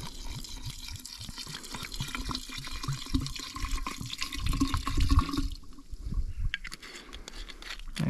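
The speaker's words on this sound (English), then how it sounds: "Now I'm gonna add the brown rice vinegar to it." Brown rice vinegar pours onto eggshells in a steady, splashy liquid stream that runs for several seconds, then thins out and trickles near the end. There is no talking.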